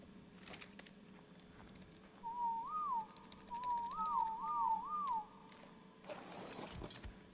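Whistle command in the video game ARK: Survival Evolved, used to make a creature follow. A few clear, rising-and-falling tonal whistles play in a short sequence over faint game ambience, with a burst of noise near the end.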